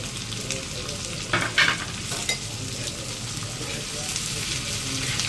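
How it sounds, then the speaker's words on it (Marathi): Dry coconut roasting in a pan for mutton gravy, a continuous soft sizzle with a few louder stirring scrapes in the middle, close and steady, no voices. "खोबरं पण भाजून घ्यायचं, कांदा पण, आणि तो मसाला अगोदर टाकलेला तो पण मटन ग्रेव्हीसाठी"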